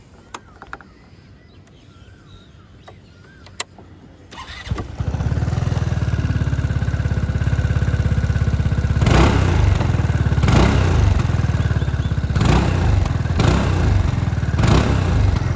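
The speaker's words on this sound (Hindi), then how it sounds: "अभी मैं आपको सुना देता हूँ इसका एग्जॉस्ट नोट" After a few quiet clicks, a Keeway Sixties 300i 300cc scooter engine starts and idles with a throaty exhaust, then revs up in several sharp bursts close to the listener.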